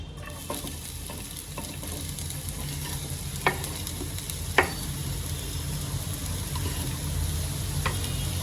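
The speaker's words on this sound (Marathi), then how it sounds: "आता ह्या तेलामध्ये मी कांदा शिमला मिरची आणि जे आपलं कॉर्न आहे त्यात सगळ्यांना मी फ्राय करायला टाकते" Onion, red capsicum and corn frying in oil in a pan for a quick snack, a steady broadband sizzle with a few sharp stirring clinks and scrapes, close and continuous with no talking.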